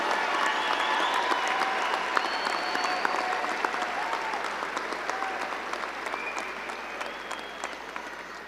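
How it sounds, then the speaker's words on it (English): A large high school graduation audience applauds scholarship winners with sustained, dense clapping. It stays even and fairly distant throughout, with no talking. "Please give a round of applause to the class of 2024 scholarship winners."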